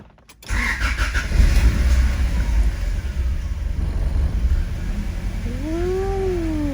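A Honda car engine cranks and starts after a rack and pinion repair, its first start in over a week. The crank is brief and loud, then the engine settles into a steady close idle.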